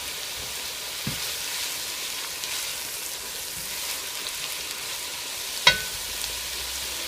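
Onions frying in a pan as the base for a spicy lamb curry, giving a steady, even sizzle that runs throughout with a couple of brief clicks from the pan or utensil.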